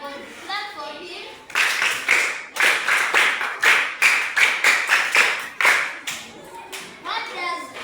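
A classroom of primary pupils claps in rhythmic bursts for a classmate, loud and close, with children's voices heard before and after the clapping.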